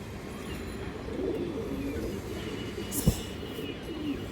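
A silver female pigeon coos softly and steadily at close range, with a brief louder flutter or knock near the end and no voices.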